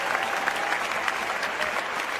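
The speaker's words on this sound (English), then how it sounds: "A fantastic cheer from everybody." Stadium crowd at the 1998 European Championships in Budapest applauding a men's javelin thrower, dense sustained clapping with a faint cheer mixed in, steady and moderately distant.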